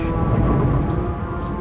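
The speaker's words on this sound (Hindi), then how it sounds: "बाहर लगातार बारिश हो रही है।" Steady rain falling outside, a dense, continuous hiss of drops on surfaces with a low rumbling undertone, loud and unchanging through the short stretch, no speech.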